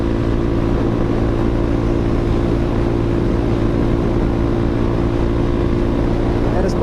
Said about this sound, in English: this bike really isn't too freeway worthy